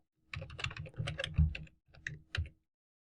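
Typing HTML code on a computer keyboard, a close, quick run of key clicks in two short bursts separated by a brief pause.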